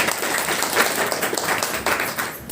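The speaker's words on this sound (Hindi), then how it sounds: "इस व्यक्ति के लिए शानदार ताली बजा दीजिए।" Audience at the Harit Sanjeevani business seminar in Mainpuri applauds, a thick continuous wash of many clapping hands, loud and steady from start to finish.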